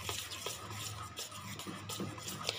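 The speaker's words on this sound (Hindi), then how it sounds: "अब इसको अच्छे से मिक्स कर लेंगे।" Salt being mixed into yogurt for raita, soft spoon scrapes and light clinks against a bowl in a quiet, steady rhythm, no voices.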